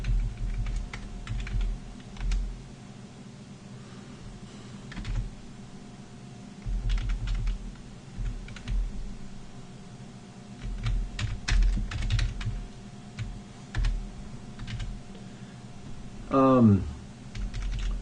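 Keystrokes clatter on a computer keyboard while Scala code is being written, coming in irregular bursts of quick taps with short pauses between, close and moderately loud.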